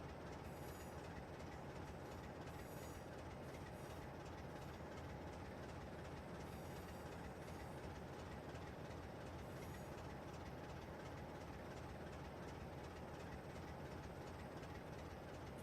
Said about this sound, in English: Here comes one of the HS2s.